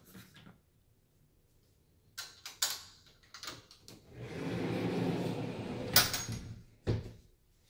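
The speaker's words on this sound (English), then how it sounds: "I forgot to show you guys the pocket door." A pocket door in a newly built Tilson Homes Carlton IV house gives a few knocks and clacks, then a sustained sliding rumble of a couple of seconds, followed by sharp thumps as it stops, all in a quiet room.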